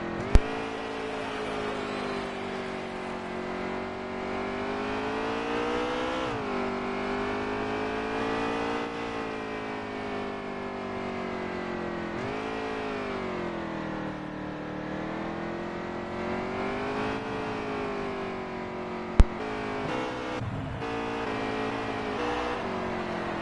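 A race car engine heard from onboard during a road-course race, a loud continuous roar rising and falling in pitch through gear changes, with one sharp click partway through.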